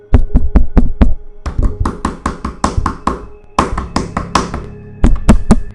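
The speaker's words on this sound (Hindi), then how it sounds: "It was the knocking sound." Knocking on a door in the middle of the night in an animated horror tale: loud, close raps in quick bursts of several knocks, separated by brief pauses, with no voices.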